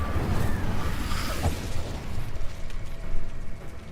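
Spell explosions from Confringo and Incendio in the Hogwarts Legacy video game, a steady roaring blast of fiery bursts and booms that holds loud for the whole stretch.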